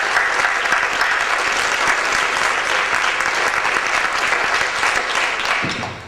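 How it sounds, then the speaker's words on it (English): An audience gives a sustained round of applause for fire service members at a Prince's Trust event in Runcorn and Widnes, dense steady clapping that fades slightly at the end. "if we give them a round of applause."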